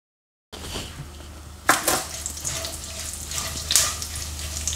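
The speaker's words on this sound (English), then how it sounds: "when the oil is nice and hot, we're going to add our whole spices in" Whole spices for masala rice drop into hot oil with a steady close frying hiss, sharp crackling bursts flaring up twice as they hit the pan.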